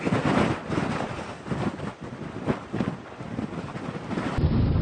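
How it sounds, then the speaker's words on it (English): Strong wind roars through a dust storm, buffeting the microphone in loud, continuous gusts that swell and ease with no pauses, with no speech over it. "Wind speeds have been increasing."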